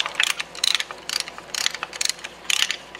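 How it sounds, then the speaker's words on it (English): Rapid bursts of ratchet clicking, repeated in short sets, come from a ratchet tool turning a brake caliper piston compressor on a 2018–2023 Toyota Camry TRD, close and clear with no talk. "and start ratcheting it out"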